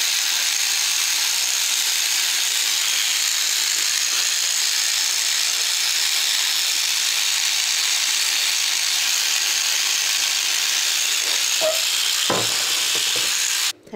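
A toothbrush scrubs a removed washing machine filter, giving a steady, continuous scratchy hiss that runs unbroken for the whole stretch, close to the microphone, with no talking.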